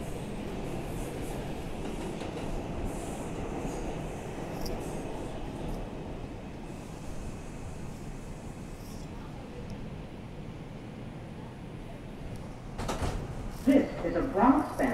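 Steady rumble of an R142 New York IRT subway train, a Bronx-bound 2 express, running along the tracks, with a brief clatter and rising rattle near the end.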